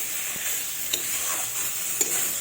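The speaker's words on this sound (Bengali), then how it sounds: "তো এইভাবে একটু ভালোভাবে কষে নেব।" Spice paste being sautéed in oil in a pan for a Bengali rui fish curry, a steady close sizzle with soft stirring scrapes and a couple of brief clinks, no voices.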